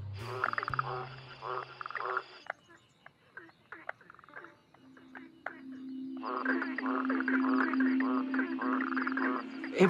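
Cane toads in Australia call in two long, loud, buzzing trills separated by a quieter gap of scattered croaks, with a voice speaking over part of it.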